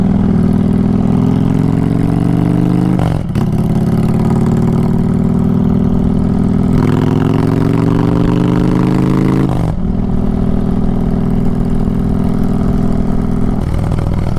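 A 2022 Honda Fury chopper motorcycle on a demo ride, its engine droning loudly and steadily up close, pitch climbing through each gear before dropping at shifts, repeated several times.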